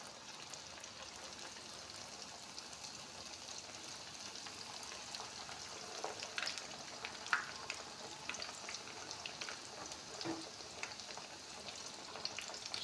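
Pişi dough frying in oil, a faint, steady crackling sizzle with occasional small pops, heard at a distance with no talking.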